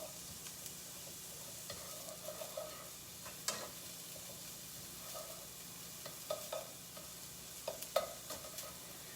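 Onions cook in a pan for a brunch casserole, with a faint, steady sizzle broken by occasional soft scrapes and taps from stirring.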